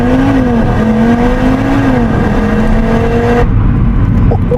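An Audi RS3 with its five-cylinder engine launches hard in RS mode, the engine roaring loud and close with rising pitch through the gears before cutting off abruptly near the end.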